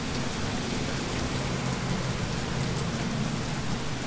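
Heavy rain falls steadily, a dense, constant wash of noise with no pauses and no voices.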